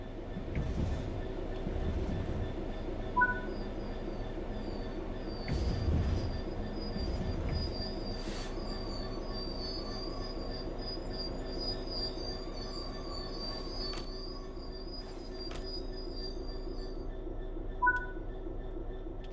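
A train in Train Sim World 3 braking to a stop, with steady rolling rumble and high, thin wheel squeals sustained throughout, plus occasional clunks and faint chimes from the cab.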